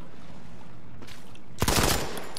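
Gunfire in the mobile first-person shooter Modern Combat 5: a faint shot or two, then a loud, rapid burst of automatic fire that trails off into a quieter tail.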